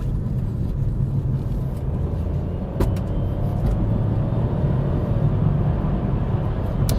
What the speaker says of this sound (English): I'm going to put my foot right down and show you what a CVT does